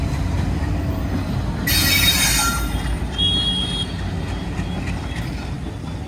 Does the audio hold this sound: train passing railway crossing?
yes